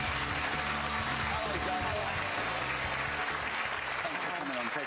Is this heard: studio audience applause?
yes